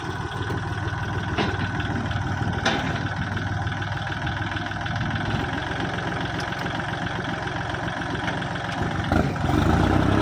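A Kubota L4018 tractor diesel engine idles steadily with a rough, knocking chug and some clattering, running close and continuous with no talking.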